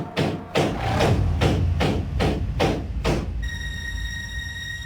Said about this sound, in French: Ça commence presque toujours par des coups.